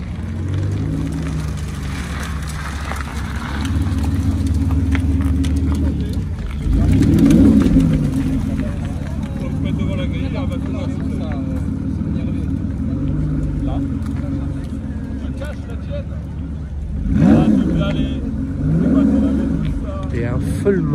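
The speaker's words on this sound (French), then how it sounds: "Là je vois arriver une Aston Martin avec une petite bouche bleue." An Aston Martin pulls in at a busy Cars & Coffee car park, its engine note steady and near with two louder revving swells, while people talk over it throughout.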